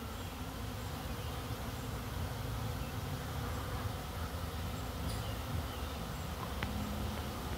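Honey bees buzz around a beehive in early June among blooming clover, a dense, continuous hum from many insects, fairly faint and steady throughout, with no voices.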